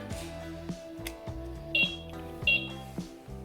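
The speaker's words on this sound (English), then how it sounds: "it does do a beep to let you know it's on." Two short high-pitched electronic beeps from a 1/16 scale RC Volvo excavator controller powering on, sounding a little apart over a background of plucked tonal music and faint mechanical noise.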